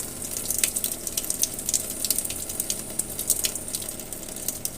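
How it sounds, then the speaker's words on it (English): Tap water runs steadily from a mop sink with fluctuating pressure, a continuous hissing rush with faint clicking flickers, close by and alone. "This is the water pressure that's coming from the mop sink."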